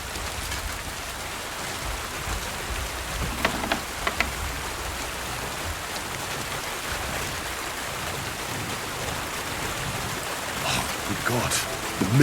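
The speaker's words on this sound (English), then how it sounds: "Yeah, okay, so the weather did start raining." Steady rain pours in Kingdom Come: Deliverance II, a dense, even hiss of falling water with a few brief louder drops and knocks, while someone talks faintly over it.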